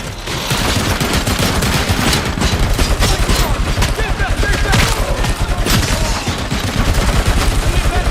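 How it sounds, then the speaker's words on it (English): Dense, continuous automatic gunfire rattles loudly throughout a video game firefight, with rapid overlapping shots and bursts and no real pauses. "Suppressive fire on it!"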